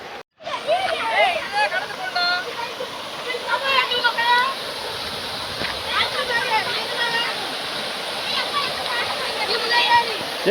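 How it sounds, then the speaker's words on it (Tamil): Rushing river water pours loudly and steadily over rocks, a constant roar with people calling out and chattering nearby throughout. "வழுக்குப்பாறையை காமிக்கிறேன் பாருங்கள் இப்போ எவ்வளோ தண்ணி வருதுன்னு"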